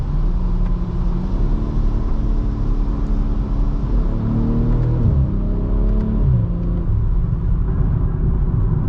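A BMW M340i xDrive sport sedan with an inline-six engine accelerates in sport mode, its loud, steady drone sweeping up and dropping between gear changes, heard from inside the cabin without talking.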